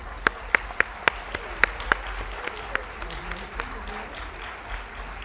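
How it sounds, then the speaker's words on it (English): A small audience at a school art and essay awards ceremony gives sparse, scattered claps, a handful of distinct sharp hand claps spaced out over a quiet room background. "Give them one more round of applause."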